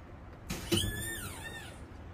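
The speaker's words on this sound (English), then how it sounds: "That was the port motor." A SeaStar Optimus electric boat steering system with a reported fault drives the port outboard motor, giving a short, close electric whine that sweeps up and down in pitch for about a second over low background hum.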